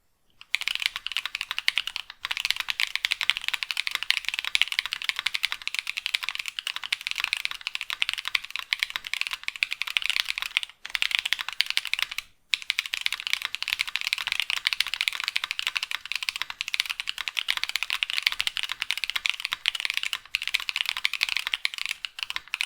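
Steady, continuous typing on a mechanical keyboard with Bolsa Techno Violet switches, a dense, hollow clatter of key presses with brief pauses, fairly close and alone without voices.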